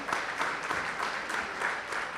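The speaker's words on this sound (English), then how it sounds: "let's have a round of applause" A crowd applauds steadily, a dense wash of clapping that holds at an even level throughout without any voices standing out.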